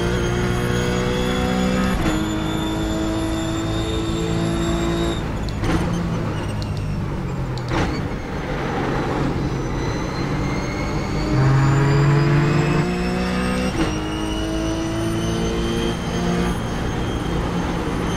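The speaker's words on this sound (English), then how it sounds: "you can hear the tires scrubbing a lot better now" Race car engines whine loudly with shifting pitches while tires scrub and squeal beneath, a continuous close racing soundscape with no talking, from Ruf Cup cars at Watkins Glen in the racing game iRacing.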